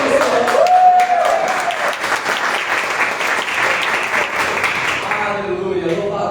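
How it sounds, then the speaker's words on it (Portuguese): Steady applause from a church congregation during a worship service, loud and continuous, with a voice briefly heard at the start. "Rapaz, aplauda o Senhor."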